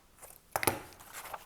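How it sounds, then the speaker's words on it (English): A quick pair of close, crisp snips as scissors trim through tape, over a faint, quiet background. "Do have to trim through the tape."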